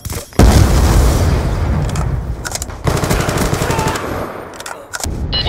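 An explosive charge detonates in a video game firefight, a loud close boom followed by sustained machine-gun fire and further bursts, heavy and continuous with no talk over it.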